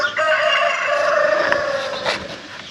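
A rooster crows loudly and close in a chicken coop, one sustained drawn-out call with a rising end, over a steady background of chickens.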